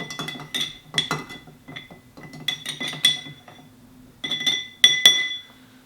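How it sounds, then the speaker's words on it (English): Ice cubes clink and rattle against a glass as an Old Fashioned cocktail is stirred, producing bright, close, repeated tinkling bursts in uneven clusters with brief pauses between them. "Give this a little stir to chill it down a little bit."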